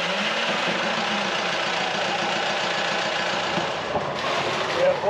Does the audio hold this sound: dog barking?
no